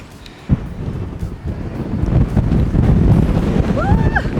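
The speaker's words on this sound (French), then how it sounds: "le vent est glacial à San Francisco" Cold wind gusting hard across the microphone outdoors in San Francisco under sunshine, a loud continuous rumble that swells and buffets throughout.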